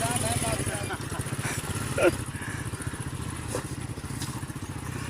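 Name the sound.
motorcycle loaded with sacks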